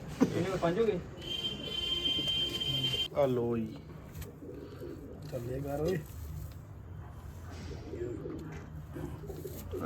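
Soft pigeon cooing repeats through the clip at a pigeon club tournament in Amritsar, mixed with close voices talking and some rustling handling noise.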